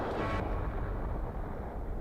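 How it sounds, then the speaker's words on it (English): An explosion strikes an airship's lower hull in Skies of Arcadia Legends, a sharp broadband blast at the start that drops into a low, lingering rumble. "It sounded like an explosion."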